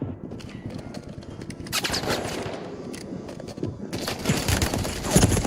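Rapid automatic gunfire in Call of Duty, with dense bursts of shots and rattling fire crowding the whole stretch, loud and close, only faint voice beneath.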